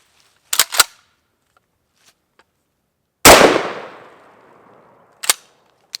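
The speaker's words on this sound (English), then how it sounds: "So we're going to start with some 12 gauge birdshot." A 12 gauge shotgun loaded with birdshot fires into a rack of meat and bone ribs: one loud, close blast with a long rolling decay, preceded and followed by sharp mechanical clicks and clacks of handling the gun.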